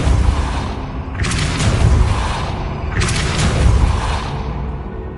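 Depulso spell cast in the video game Hogwarts Legacy: two heavy booming blasts with a rushing whoosh about two seconds apart, loud over a low rumbling game background, with no talk.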